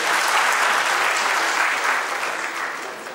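An audience applauds steadily at an evening mess-night gathering to cheer on performers. The clapping is dense and sustained, filling the room, and tapers slightly toward the end.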